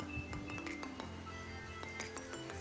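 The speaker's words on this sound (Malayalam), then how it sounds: "നന്നായി ഇളക്കി എന്നിട്ട് മൂടി വെക്കുകയാണ് കേട്ടോ" A metal lid set down on a cooking pot after stirring, a cluster of light clinks and rattles against steel, close and fairly soft, with a faint hum of the kitchen behind it.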